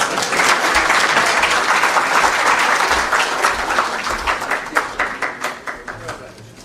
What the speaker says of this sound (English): Another round of applause for our guests this afternoon.